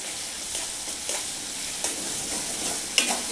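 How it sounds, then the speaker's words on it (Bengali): Pointed gourd (potol) pieces hit a hot, oily red spice paste in a pan, giving a steady close sizzle with a few stirring scrapes and clinks, and no talk. "এবার আমি এর মধ্যে পটলটা দিয়ে দেবো।"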